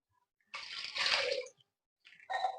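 Water poured from a glass into a pressure cooker holding cut potatoes, two short splashy bursts separated by a brief pause, close and fairly quiet.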